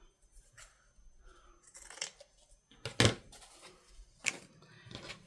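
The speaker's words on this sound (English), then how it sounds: "And let's just cut some off here." Scissors snipping through lace, several separate crisp cuts spaced irregularly, one sharp loud snip in the middle, close up in a quiet room.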